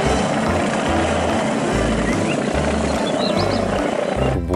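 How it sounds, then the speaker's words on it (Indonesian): A toy police helicopter's spinning propeller makes a steady, loud whirring drone like a small helicopter's rotor, continuous throughout with a brief rise near the end. "Wow, ada baling-balingnya. Ini helikopter polisi."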